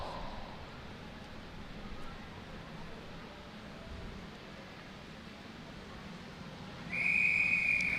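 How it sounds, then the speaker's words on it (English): A long, bright whistle blast near the end starts a 120-lap U17 omnium track cycling race at a velodrome, rising loud over a steady crowd and arena hum. "Long blow of the whistle and we're off and racing now"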